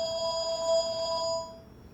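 A phone rings with a bright, repeating electronic tone for over a second, then fades out, fairly faint against a quiet room.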